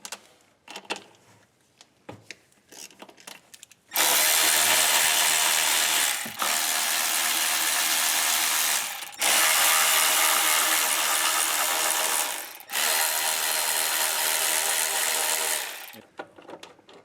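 A ratchet wrench loosens the 10mm bolts and nuts holding the throttle body on a 2008 Chevrolet Silverado, clicking loudly and close in four long, steady runs with short pauses between them.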